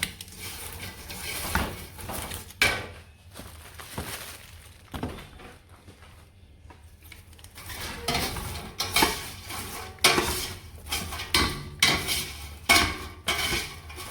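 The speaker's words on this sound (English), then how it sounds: "So I'll just stir it. Just keep mixing." Popcorn being stirred through melted milk and sugar in a pot on a stovetop, with repeated scraping and clattering strokes, close up and fairly loud, plus a faint sizzle underneath.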